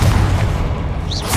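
Confringo fire spell explosion in Hogwarts Legacy, a deep booming blast with low rumble filling the short moment, loud and close with no talk.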